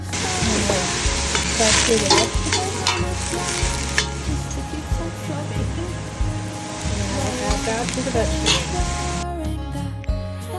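Cut bacon and garlic fry in the bottom of a soup pot with a loud, continuous crackling sizzle, overlaid by frequent metallic stirring scrapes and clinks until it stops abruptly near the end.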